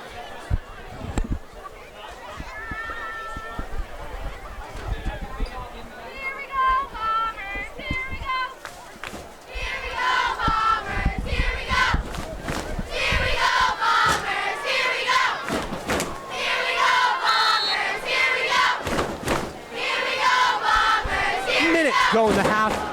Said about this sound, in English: The cheerleaders yell loud and proud, cheering on this Westfield squad.